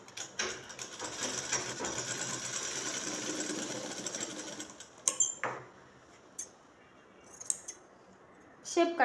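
Scissors cut cloth to shape in a tailoring room, making a few crisp snipping and crunching bursts after a stretch of steady machine whirring, with quieter pauses between cuts.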